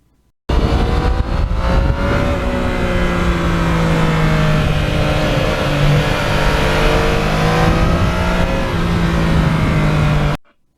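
A Yamaha MT-09 triple-cylinder naked motorcycle drones loudly and steadily on an open road, its engine note rising and falling slightly as it rides on, then cutting off abruptly.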